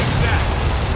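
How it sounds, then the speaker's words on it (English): Automated turrets in Gears of War 4 fire a loud, dense, continuous barrage of rapid shots that blur into one heavy roar for about a second. "Come on, turrets, do your work."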